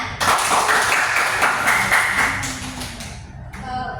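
Classmates applaud a student in a classroom. A burst of close, dense hand-clapping starts abruptly, holds steady for a few seconds and then fades into a few scattered claps.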